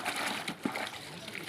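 Artificial flowers are swished around in a basin of water during handmade flower cleaning, giving a short, close burst of splashing and sloshing with one sharper splash partway through.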